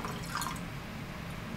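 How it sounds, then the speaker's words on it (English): Liquid is poured into a beaker set on a triple beam balance, giving a short burst of light trickling and dripping close by over a faint hum, with no talk. "Then you have to pour in the liquid"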